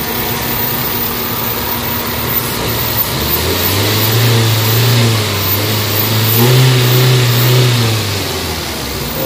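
Toyota Vitz engine with a vibration fault revs up and holds in gear, a steady mid-low drone rising twice in pitch and loudness before settling, close and continuous with no talking.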